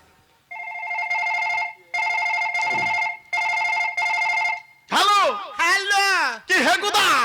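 During a Gajan folk theatre performance, a phone rings in three steady, evenly spaced ring bursts, then a voice answers and speaks, close and clear.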